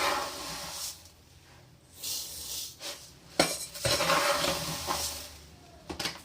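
Raw rice being poured into a vessel to soak for athirasam flour, heard as clattering, rustling grains and vessel knocks with a few louder bumps, close and fairly quiet, no talk.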